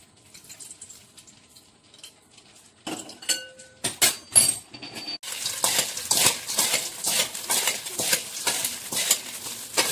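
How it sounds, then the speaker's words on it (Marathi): A spoon stirs and scrapes through dry corn and poha chivda in a pan, with quick repeated rustling strokes that grow louder and steadier halfway through. "चिवडा छान असा मिक्स करून घ्यायचा।"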